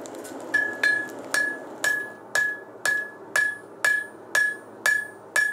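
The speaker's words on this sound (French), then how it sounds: "Pendant la forge, on ne parle pas du tout, on communique uniquement au son du marteau." A hammer strikes iron at a medieval forge, about eleven sharp ringing blows at an even, unhurried pace, each with a bright metallic chime that decays quickly. The blows are close and loud, with no talking.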